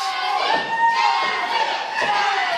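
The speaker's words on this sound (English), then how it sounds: "As you hear the fans cheering for her." Wrestling fans cheering and shouting throughout at an NWA Mountain State women's match, a loud, continuous crowd roar with children's voices and occasional thuds in the mix.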